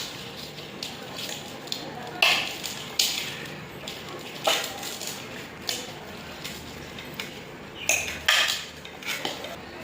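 Sambal being stirred in a dish with a spoon, a series of irregular metallic scrapes and clinks against the bowl, close and fairly quiet, with about a dozen sharper strikes spread across the stirring.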